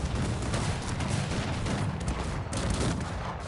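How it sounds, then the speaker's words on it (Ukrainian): A dense, continuous barrage of booming howitzer artillery explosions and gunfire rumbles on without pause, loud and heavy, in a Cossacks 3 game battle. "Так, і погнали гаубиці. Стріляємо сюди."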